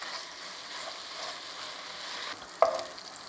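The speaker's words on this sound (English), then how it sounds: "Now I'll be frying this." Steady, close sizzling of prawns frying in a pan for a bottle gourd curry, with a brief sharp clatter near the end.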